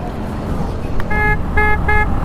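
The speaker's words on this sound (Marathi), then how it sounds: "हिची हॉर्न खूप मस्त आहे" A Bajaj Avenger motorcycle horn honks three times in quick succession, loud and close, over a steady road and engine rumble during a ride toward Panaji.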